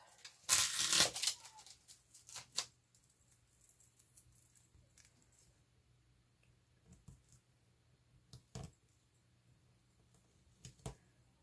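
Strips of foam tape handled on a paper envelope, with a loud rustling burst at the start followed by scattered soft clicks, taps and crinkles against a quiet background.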